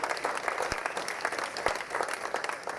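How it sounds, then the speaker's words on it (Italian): Audience applause at an open-air evening event along the Tiber in Rome, a steady dense clapping from a crowd that continues evenly without pause. "a cui farei un altro applauso, grazie."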